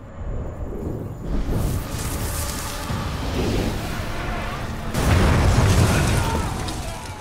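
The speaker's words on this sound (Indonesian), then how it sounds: "kobaran api melahap uang-uang palsu di gudang dan menimbulkan ledakan" A burning warehouse full of counterfeit money explodes in a film scene, heard as a sustained loud roaring blast with rumbling low end that swells again into a heavier burst partway through.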